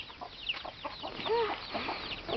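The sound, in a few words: chickens clucking on a farm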